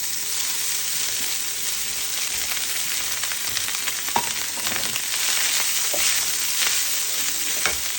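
Rice stir-fried in a pan with peanuts for spicy ginger garlic rice: a steady, close, crackling sizzle, with occasional scrapes and soft stirring clatter throughout.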